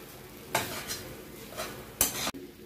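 Maggi noodles stirred in a pan with vinegar or lime, a few scraping strokes of a utensil against the metal with a soft sizzle underneath, one louder sharp scrape near the end.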